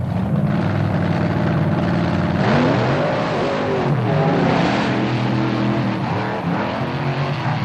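Monster trucks revving hard and racing on a beach track at Wildwood, New Jersey, loud roaring engines rising and falling in pitch with tire spin, alone without talk.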